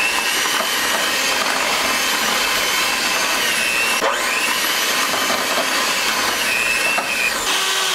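An electric hand mixer runs steadily on low speed through a thick sweet potato casserole mixture, giving a continuous loud whirring drone with no pauses and no one talking.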